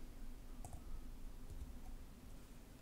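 A computer mouse clicks on an OK button in Visual Studio, with a couple of faint, sharp clicks over a quiet background hum.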